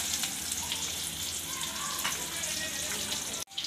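Onions frying in oil for an Odia crab curry, giving a continuous moderate sizzle close by, with a brief drop-out near the end and no talking.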